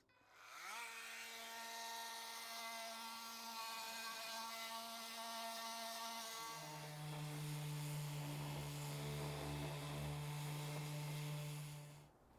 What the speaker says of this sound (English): now we're going with the sander. So use a 40 grit to start off with, because this is actually plastic wood